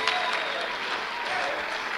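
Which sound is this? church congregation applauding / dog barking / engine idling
church congregation applauding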